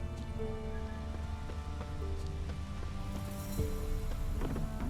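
Rain falls in the video game The Witcher 3, a soft, steady patter under sustained musical tones and occasional light thuds.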